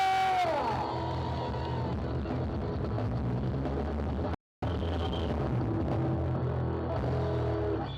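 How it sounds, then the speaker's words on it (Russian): A loud, dense crowd roar with cheering and whoops running continuously at a cycling carnival in Mogilev, briefly cut to silence partway through before resuming. "Громче, громче, громче, еще аплодируем, друзья"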